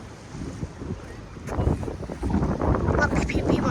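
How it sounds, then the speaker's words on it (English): Ocean waves wash against a rocky shore in a low, rumbling surge that swells louder toward the end, blended with heavy wind buffeting the microphone. "you can hear the waves from there too"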